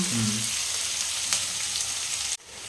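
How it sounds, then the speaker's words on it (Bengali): Onion frying in oil until reddish, a steady close sizzle with no talk, ending in a sudden drop partway near the end before the hiss resumes more quietly. "পেঁয়াজটা নিজেদেরকে একটু আন্দাজ করে দিতে হবে একটু লাল করে ভেজে নিতে হবে"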